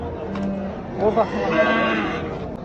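A two-year-old bull at the Turkestan livestock market lets out one drawn-out moo, close and clear, against a low hum of the market.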